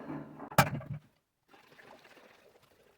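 Oil is poured into a small batch of gasoline to mix two-stroke fuel for a chainsaw, starting with a sharp clunk of the container, then a brief glug and a soft, trickling pour after a pause.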